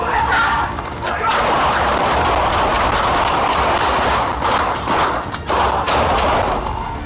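Dense, sustained gunfire in a city during a police chase, rapid overlapping shots like a fusillade, loud and continuous throughout with a rumbling background.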